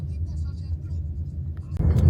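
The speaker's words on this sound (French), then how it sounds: "Ça c'est du camion." A truck passing in the Atacama desert near Calama, Chile, a steady low engine rumble that swells into a louder roar at the end, with a voice talking over it.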